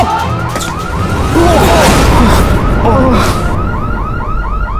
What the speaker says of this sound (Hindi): ये सिक्योरिटी अलार्म क्यों बज रहा है?